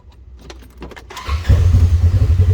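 A 2021 Polaris RZR XP4 1000 turns over briefly with a faint clatter, then its engine catches and settles into a loud, close, throbbing idle.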